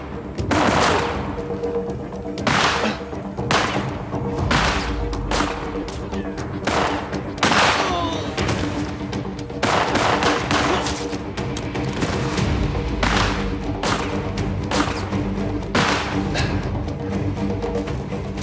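Loud gunfire erupts in repeated sharp bursts and volleys, cracking shots overlapping and echoing throughout, with rumbling booms underneath.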